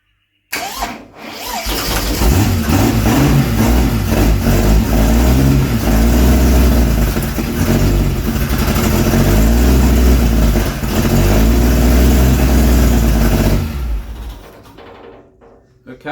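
A rat rod car engine cranks, catches and runs loud and rough close by for over ten seconds with some revving, then cuts off abruptly; a voice is faintly audible beneath the engine.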